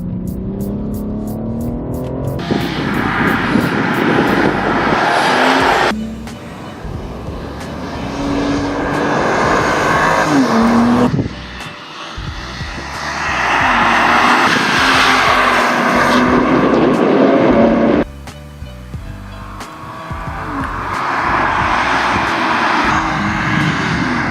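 2021 BMW M3 Competition engine revving hard through gear changes, four bursts of rising roar separated by sharp drops at each shift, loud and close, with tire noise.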